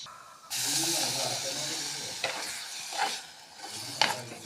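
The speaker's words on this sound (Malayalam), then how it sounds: "നന്നായിട്ടൊന്ന് ഇളക്കാം" Carrot pachadi being stirred with its ground paste in a pan, giving a broad hiss and sizzle with a few scraping strokes, close and moderately loud.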